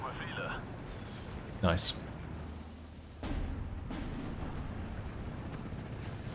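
Mortar rounds firing and bursting in the Normandy 1944 wartime strategy game Steel Division, heard as a couple of heavy booms and muffled thumps over a steady battlefield rumble, with a voice speaking briefly.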